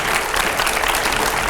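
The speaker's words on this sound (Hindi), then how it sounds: "जोरदार तालियां रुकनी नहीं चाहिए।" A television studio audience applauds to welcome a guest, Delhi's chief minister, on a news talk show, a thick continuous wash of clapping, loud and unbroken.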